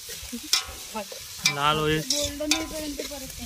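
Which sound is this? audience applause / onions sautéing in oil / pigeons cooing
onions sautéing in oil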